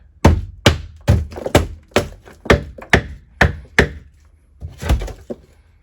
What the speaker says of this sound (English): Now we're going to take our hammer and knock out that shape.